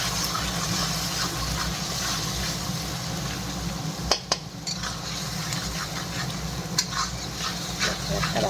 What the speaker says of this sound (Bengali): এগুলো দিয়ে এখন ভালো করে মশলাটা কষাবো আমি।